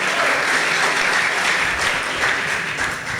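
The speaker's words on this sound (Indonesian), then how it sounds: "Berikan tepuk tangan Pak Sony." An audience at an evening church gathering applauds as Pak Sony is welcomed forward to speak, a steady, dense wash of clapping that holds evenly throughout.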